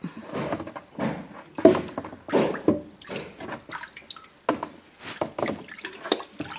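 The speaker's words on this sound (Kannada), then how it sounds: "ನೀರಿನ ಸ್ವಲ್ಪ ಹಾಕಬೇಕು" Water poured into a container to soak a hair mixture, with several short splashing pours and trickles close by and no talking.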